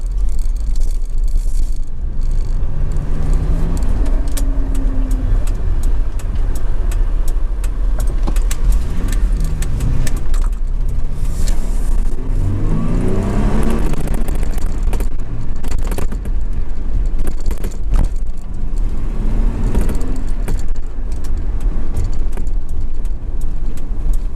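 A Ford Mustang drives off, its engine rumbling loudly and steadily throughout with rising and falling revs, heard alone with no talking.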